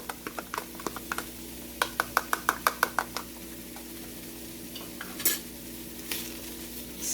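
Minced garlic being stirred around in a hot pan for a lasagna meat sauce, a run of quick light scraping taps with a soft sizzle underneath, then a few scattered clinks and a brief louder scrape near the end.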